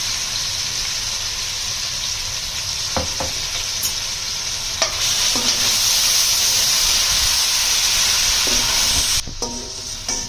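A loud, steady sizzle of tomatoes frying in a pan, with occasional scraping knocks of a spoon stirring them close by.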